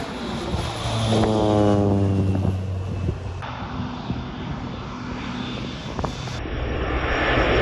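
A crop-spraying airplane flies over an Iowa field during spray pattern testing. Its engine and propeller make a steady, fairly loud drone that swells and then eases as it passes. No one speaks.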